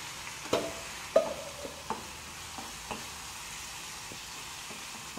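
Spices frying in oil in a pan on a home stove, a quiet steady sizzle broken by a few soft scraping knocks of a spoon stirring, no voices.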